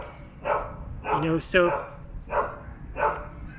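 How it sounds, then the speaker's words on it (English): A dog barks in short bursts, a few barks spaced about a second apart at moderate distance, mixed in with someone talking. "there's a dog barking"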